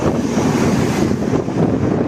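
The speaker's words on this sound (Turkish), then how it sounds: "Bugün hava böyle baya fırtına ve baya esiyor." Strong wind roars steadily and buffets the microphone in a loud, continuous rush, with no voices.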